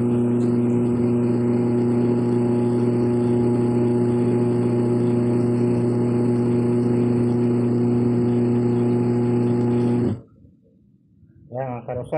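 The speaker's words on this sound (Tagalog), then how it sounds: "Yan mga karosas, okay na motor niya." A washing machine fitted with a replacement motor runs with a loud, steady electric hum and whine for about ten seconds, then cuts off, and a voice starts talking close by.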